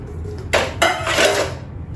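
Metal camping cookware pans clatter together twice in quick succession, close and bright, followed by a ringing metallic shimmer that fades.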